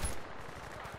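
A quick rattling burst of XM8 assault rifle fire in Battlefield Bad Company 2, rapid repeated shots at moderate distance over a gritty battlefield background.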